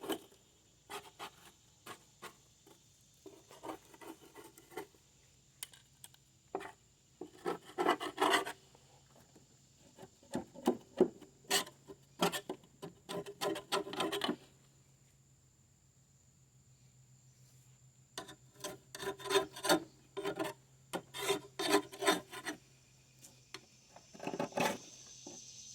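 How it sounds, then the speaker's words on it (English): Grass is scraped and scrubbed off the underside of a lawn mower deck in repeated bursts of rasping strokes, close and fairly loud, separated by quiet pauses. "Scrape all the grass down."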